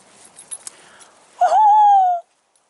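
A person imitates a tawny owl call outdoors at dawn: a single sustained, slightly wavering hoot lasting under a second, close and fairly loud, following faint birdsong and rustling.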